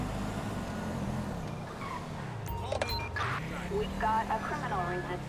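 A stolen car fleeing a police stop in GTA 5, engine roaring and revving with pitch rising and falling as it accelerates away, someone talking over it throughout.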